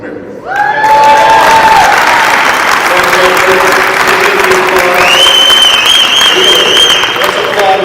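An audience at a state Republican party central committee meeting breaks into loud, sustained applause with cheering and crowd noise, clapping swelling after a quiet start while voices call out over it.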